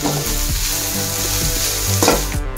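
Carrot and onion fry in a pan with a loud, close sizzle, broken by repeated scraping strokes of a spoon stirring the pieces, and no voices.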